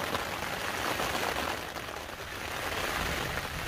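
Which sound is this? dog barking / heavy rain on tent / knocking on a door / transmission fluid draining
heavy rain on tent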